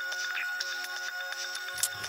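A mobile phone ringtone plays in a steady repeating electronic pattern, moderately loud and close, with no talk over it.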